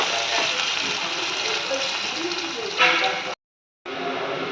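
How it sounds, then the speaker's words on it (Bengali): Chopped onion frying in a pan of hot oil, a steady broad sizzle that runs throughout and cuts out briefly near the end before resuming. "এবার দিয়ে দেবো আমি অর্ধেক পেঁয়াজ কুচিটা। এই পেঁয়াজটাকে ভালো করে একদম লাল লাল করে ভাজতে হবে।"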